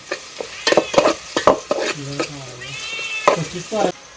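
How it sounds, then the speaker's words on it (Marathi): A bay leaf drops into hot ghee in a pot over a village wood-fired stove, giving a sizzle broken by sharp stirring clacks, with a cat meowing in between. "तूप चांगलाच तापला आहे याच्यामध्ये आपण टाकतोय तेजपत्ता"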